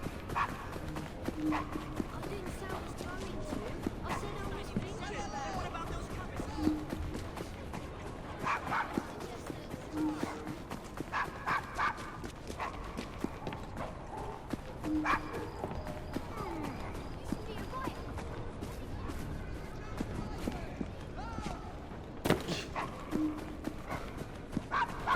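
A dog barks and yips repeatedly in the video game Assassin's Creed Syndicate, with occasional short whimpers and clip-clopping horse hooves among steady game ambience and intermittent talk.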